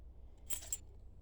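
A brief, faint jingle of a set of keys being handled, two quick shakes and then quiet.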